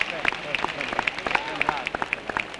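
A large crowd outside the Hungarian Parliament in Budapest in 1989 applauds at a proclamation ceremony, giving sustained, moderately distant clapping with scattered sharp claps under a voice speaking.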